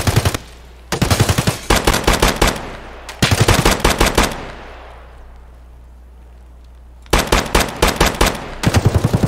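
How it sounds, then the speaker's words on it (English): Automatic gunfire in Escape From Tarkov, loud close bursts of rapid shots in several volleys with a quieter gap of echoing decay in between. "Oh, I'm getting shot."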